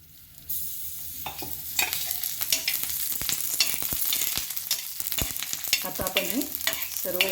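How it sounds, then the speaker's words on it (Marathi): Green chilies, garlic and cumin fry in oil in a pan for a chutney, giving a steady close sizzle broken by sharp scraping stirs and clinks throughout, with no talking. "आपल्या हिरव्या मिरच्या लसूण आणि जिरं हे दोन मिनिट छान भाजून घेतलेलं आहे याला आपल्याला थोडंसं तेल घालून घ्यायचं आहे"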